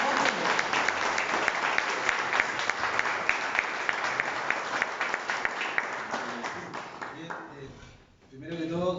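Audience applause at a book launch is strong and sustained, a dense wash of clapping that tapers after about seven seconds before a voice begins speaking.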